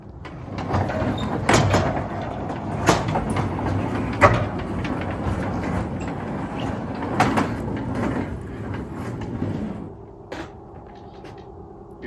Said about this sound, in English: Let's get this door open up and I will show you guys the very special to my family Mercedes.